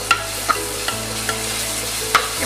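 Onions with ginger garlic paste sauté for prawn biryani in a pan on an induction cooktop, giving a steady close sizzle broken by a few sharp spoon taps against the pan, with no speech.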